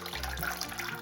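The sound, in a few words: washing chival leafy greens in water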